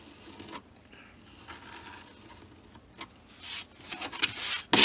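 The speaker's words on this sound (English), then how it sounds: "I'm just going to trim the edge off at an angle like this" A craft knife shaves a chamfer along the edge of an HO-scale model roof piece, giving soft, uneven scraping and rubbing strokes that get louder and busier toward the end, with no talk.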